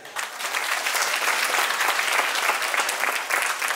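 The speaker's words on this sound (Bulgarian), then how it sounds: "аплодисменти за фирма Змееборец и господин Костадинов" Audience applause at the Cake Art Bulgaria Awards 2023 ceremony, honouring the company Zmeeborets and Mr. Kostadinov: dense, steady clapping from a sizable crowd, fairly close and sustained throughout with no talk over it.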